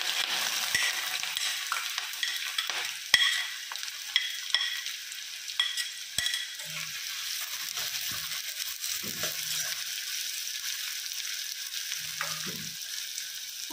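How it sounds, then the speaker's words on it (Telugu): Onions hiss and crackle as they fry in about five tablespoons of hot oil in a pan, a steady close sizzle with occasional scrapes and stirring taps, the sizzle easing slightly toward the end. "ఆయిల్ హీట్ అయిన తర్వాత ముందుగా ఆనియన్స్ వేసుకోవాలి."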